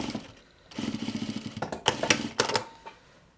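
Sewing machine stitching a fabric face mask, a short run of rapid rhythmic needle clatter followed by a few louder clicks and clunks of fabric handling, close by and without talk.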